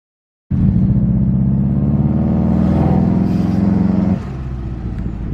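A turbocharged Subaru engine with a Grimspeed cold air intake and a stiffened blow-off valve spring runs loudly and steadily, with a strong low rumble and rising whoosh, then the level drops abruptly near the end to a quieter idle.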